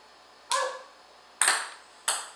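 A small projectile from a physics catapult lands near the end of a door, making three sharp, bright clacks as it strikes and bounces, each hit ringing briefly before fading into a quiet room.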